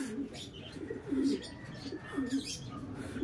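Pigeons in a loft giving soft, low cooing calls in a few short bursts, fairly faint and close, with light rustling and scattered chirps in the background.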